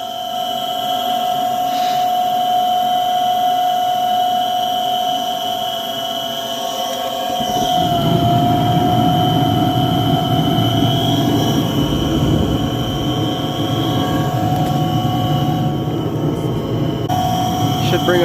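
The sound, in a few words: furnace blower running after igniter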